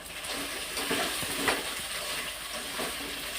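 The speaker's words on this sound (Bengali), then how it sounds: "পেঁয়াজগুলো সব দিয়ে দেবো। পেঁয়াজগুলো যখন ভাজা ভাজা হবে" Soft, steady sizzling of onions frying in a pan for egg curry, with a few light stirring scrapes and taps; no voices.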